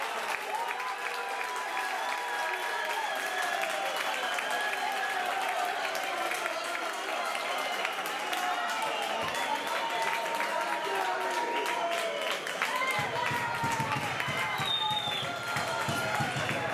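Football fans in the stands of an amateur match cheer and applaud after a goal, a steady wash of clapping and crowd noise with a commentator's voice talking over it throughout.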